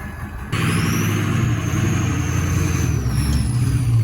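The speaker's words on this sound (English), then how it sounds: "Just thought I'd show you my exhaust here. That's a 5-inch semi-stack coming out the side." A lifted off-road welding truck fitted with a 5-inch side semi-stack exhaust rumbles close by, its engine jumping to a louder, steady growl after a quiet opening moment and holding there with a deep, throaty drone.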